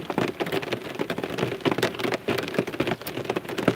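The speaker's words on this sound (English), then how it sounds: "When it's raining like this" Heavy rain pours steadily outdoors, a dense, continuous hiss of drops drumming on surfaces, close and loud with no voices.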